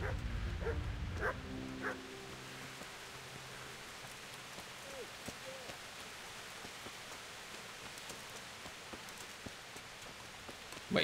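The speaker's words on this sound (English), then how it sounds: "Bark, bark." A dog barks a few times in the medieval open-world game Kingdom Come: Deliverance, sharp yips at the start and then sparse distant barks over steady rain and ambient noise.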